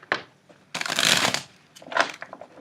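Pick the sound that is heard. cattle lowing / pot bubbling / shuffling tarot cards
shuffling tarot cards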